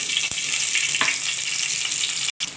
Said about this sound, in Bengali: তো এবার আমি সর্ষের তেল দিয়ে দিলাম।